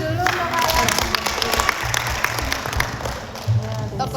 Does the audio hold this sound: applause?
yes